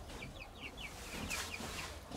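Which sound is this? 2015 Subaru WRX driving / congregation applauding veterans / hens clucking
hens clucking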